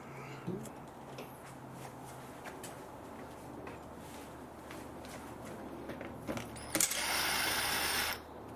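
A T25 screw is undone during a service on a 2018 VW Golf 1.0 TSI automatic, giving faint mechanical ratchet-like ticking over steady background noise, then a short louder burst of tool noise near the end.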